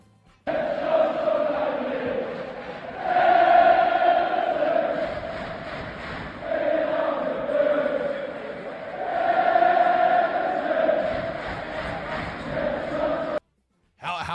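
About 3,000 Everton supporters keep chanting and cheering inside an away stadium nearly an hour after the final whistle, with swelling, rhythmic crowd voices rising and falling throughout.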